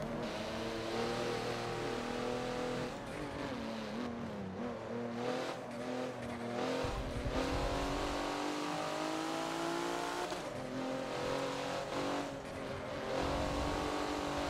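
A track car racing around the Hockenheimring short layout in the Forza video game, engine roaring and rising through gears with shifts and throttle lifts, continuous and loud, with a brief tire squeal.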